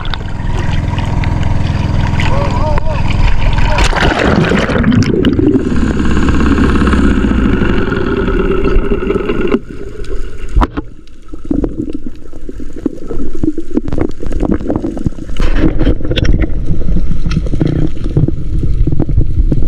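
A loud boat engine roars close by and then passes, heard while spearfishing in the Philippines, its drone shifting in pitch before settling into a rougher rumble with splashing water.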